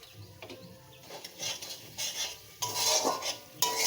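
Spice masala being stir-fried in a pan for a banana kofta dish, with intermittent scraping and clinking of a metal spoon against the pan over a low sizzle, strokes growing louder and busier toward the end.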